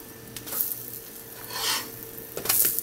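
A caramel chai protein pancake sizzles in a hot pan after being flipped, giving a steady close hiss with soft bursts of crackle and a brief scrape of the spatula.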